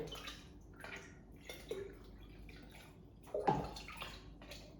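Water poured from a cup into a bottle, heard as a faint, soft trickling and splashing with a few louder gurgles near the end, alone and close.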